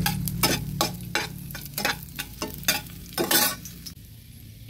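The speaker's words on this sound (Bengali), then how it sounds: "লো ফ্লেমে কিশমিশগুলো ভেজে নিচ্ছি।" Raisins fry in hot ghee on a low flame, a soft, steady sizzle broken by repeated scraping strokes of a spoon stirring the pan, close and fairly quiet, with no voices.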